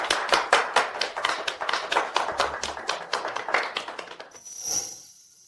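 A small group of office staff claps steadily for several seconds, sharp hand claps in a quick irregular rhythm, ending abruptly followed by a brief high tone.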